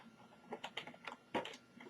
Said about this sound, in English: the keyboard, with a little bit of fiddling, should just lift